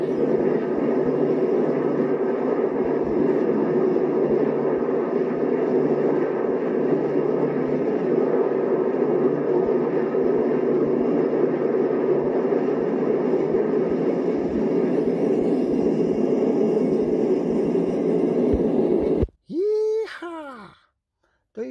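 A 1960s aircraft takes off with a loud, steady engine roar that fills most of the stretch before cutting off abruptly near the end, followed by a brief burst of other sound.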